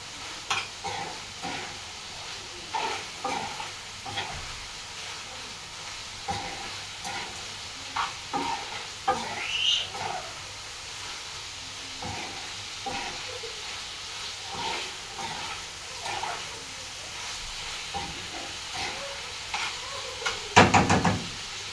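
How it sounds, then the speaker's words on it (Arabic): Liver fries in a pan with tomatoes, giving a soft, steady sizzle under repeated scraping and knocking from stirring. A louder clatter comes near the end. No one speaks. "اقلب الكبده بس كده ايه تقليبه"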